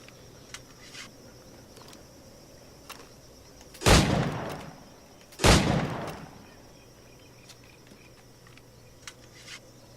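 Two loud, close gunshots from Assassin's Creed IV Black Flag, the first near the four-second mark and the second about a second and a half later, each with a short decaying tail, over a quiet game ambience with faint insect-like chirps.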